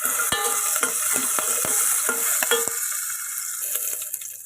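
Curry leaves, green chilies and crushed garlic sizzle loudly in an oily pan while a spatula scrapes and stirs them with irregular clacks against the metal, close and continuous.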